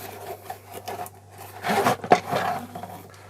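A flexible camera tripod package being opened by hand, with short plastic rustles, scrapes and rubbing sounds, a louder crinkle burst in the middle, close up and without talk.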